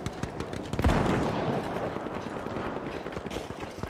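Shotgun fire in the shooter game The Finals, rapid loud blasts and crackling impacts over busy game noise, with a dense burst near the start and steady clattering afterward.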